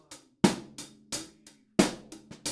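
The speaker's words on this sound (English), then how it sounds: "We're going to play on the E's, the bass drum now." A close acoustic drum kit plays a sparse practice groove with the bass drum shifted onto offbeat sixteenths, crisp snare and cymbal hits over low kick thumps in a steady pattern.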